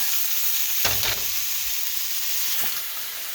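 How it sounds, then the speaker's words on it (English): Steady broadband sizzle of peppers sautéing in a pan for chili, with a couple of brief louder crackles and stirring scrapes, close and continuous. "the peppers have just been sauteing for a few minutes. Making nice sounds."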